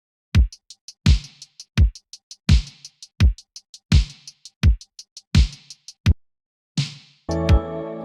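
Synthwave drum group in Ableton with the Waves Factory Cassette plugin switched off, so the kick, snare and hi-hats play bright and crisp in a steady repeating loop. A short burst of full mix cuts in at the end.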